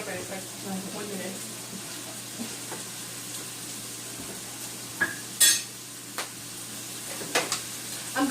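Stir-fry noodles cooking in oil in a pan give a low steady sizzle with occasional clinks and scrapes of utensils, close by, while someone speaks now and then.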